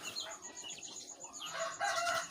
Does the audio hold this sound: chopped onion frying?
no